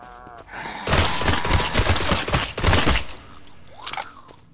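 Rapid gunfire in a zombie horror video game as a big zombie is shot, a dense burst of loud cracks lasting about two seconds, followed by quieter game sounds.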